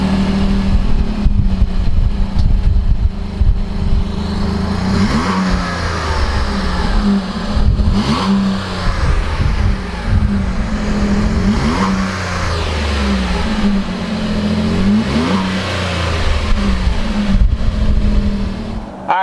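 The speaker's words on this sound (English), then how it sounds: "let's go ahead and fire up this Canyon and see what it sounds like." A 2019 GMC Canyon All Terrain pickup's engine fires up nearby and is revved repeatedly, loud rising and falling surges over a steady idle rumble, with no talking.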